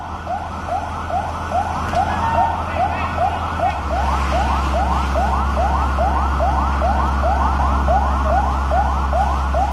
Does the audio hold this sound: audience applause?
no